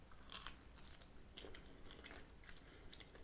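Close, quiet crunching bites and chewing of a Domino's Lotta-Chocca chocolate dessert pizza, with several crisp crunches at the start and a few more soft crunchy bursts through the steady mouth sounds.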